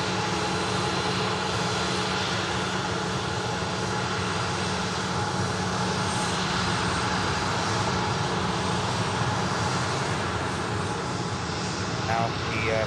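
An Emirates airliner taxiing in at an airport, a steady broadband engine roar and whine holding for the whole stretch, fairly loud and unbroken.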